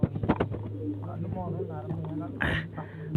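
Pigeons coo softly in low, steady tones beneath a man's close, dominant talk.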